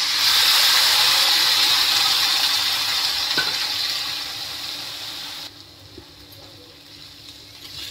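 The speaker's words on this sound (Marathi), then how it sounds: "आता आपण हे मूग टाकून देऊया।" Washed mung beans pour into a cooking pot with a wet, rushing spill that is fairly loud and close, then fade to a few light knocks and clinks in a quiet kitchen.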